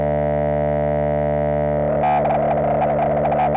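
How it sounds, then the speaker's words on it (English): An Arturia MicroBrute synth filter makes a steady buzzing drone that breaks into crackly, warbling filtered noise halfway through, like garbled radio chatter. "You put it somewhere at random and you get what sounds like communications noise."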